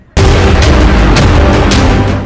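A massive, overwhelming boom as projectiles fired from the Lebanese border strike toward Haifa, erupting suddenly after a brief hush and sustaining a dense, distorted roar to the end.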